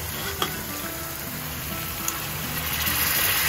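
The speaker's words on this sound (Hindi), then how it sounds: "अब इसमें हम अपनी जो राजमा है वो डालेंगे" Boiled kidney beans for Punjabi rajma tip into masala cooked down in hot oil, giving a steady, close, loud sizzle with a couple of soft knocks as they land.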